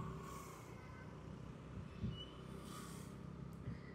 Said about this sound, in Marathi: आणि आता लागलेला आहे ट्रॅफिक.